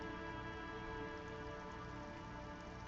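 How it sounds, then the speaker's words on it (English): Steady rain patters and drips from the netting of a trap among reeds in the video game Disco Elysium, a dense, even wash of droplets throughout with no voices. "Rain drips from the netting of the trap."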